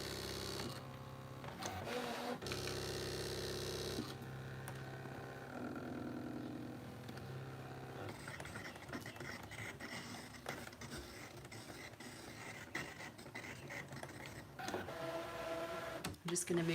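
A ScanNCut machine cuts a stamped flower image from card, giving steady mechanical whirring and motor buzz with stop-start carriage movements, while a person talks over it at close range.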